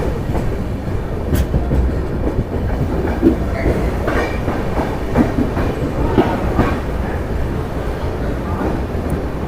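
Train standing at platform 3 of an Indian railway station with a WAP7 electric locomotive, a steady loud rumble of rail noise with faint clatter and scattered background activity throughout.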